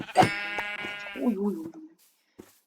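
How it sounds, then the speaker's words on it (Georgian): A loud Minecraft sheep bleat rings out close by, a second shorter bleat follows, then a brief soft click before silence. "ცხვარი და ნახე რამდენი ცხვარი გაეზრო აქეთ ამ მხარეს"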